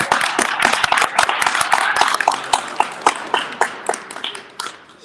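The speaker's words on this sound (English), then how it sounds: "We give her a round of applause." A seminar audience applauds steadily, many hands clapping in a dense, loud wash with sharper individual claps standing out, easing only slightly toward the end.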